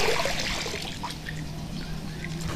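Tidal floodwater from a Borang river tributary flows into a housing estate in Talang Jambe, making a brief, steady wash of rushing, trickling water.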